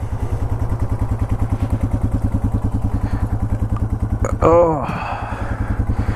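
Carbureted Yamaha TW200 motorcycle engine idling while warming up, a close, steady low thumping putter throughout, with a brief spoken exclamation near the end over the running engine.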